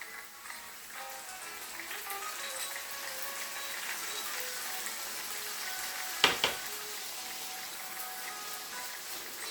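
Chopped tomato sizzling in a hot pan for seafood paella, a steady crackling fry with a sharp clatter of stirring around the middle, no voices.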